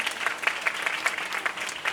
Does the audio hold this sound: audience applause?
yes